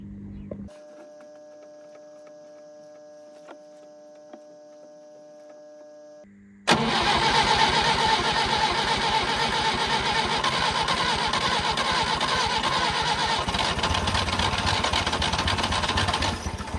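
A 1958 Peugeot 403 pick-up engine cranks and fires after a quiet stretch with a faint tonal hum, then settles into a loud, steady, close running idle for the rest of the clip.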